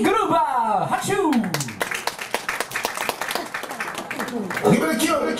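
An audience applauds and claps for the NASTY GROOVER dance team at a TRUE SKOOL 2019 street dance contest. The dense, crowd-wide clapping runs steadily throughout while an announcer speaks loudly over it.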